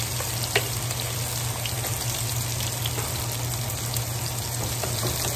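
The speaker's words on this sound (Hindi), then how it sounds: "प्याज फ्राई हो गया है" Chopped onion fries in hot oil with cinnamon and cardamom, giving a dense, continuous, loud sizzle that stays steady throughout with no talk.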